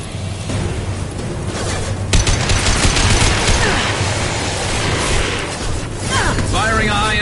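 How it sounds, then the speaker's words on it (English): Heavy gunfire and booming impacts from a high-impact weapon in the sci-fi shooter game Mass Effect, loud and dense throughout, with a sharp burst near the start amid ongoing combat noise and a voice speaking over it. "Firing a high-impact shot."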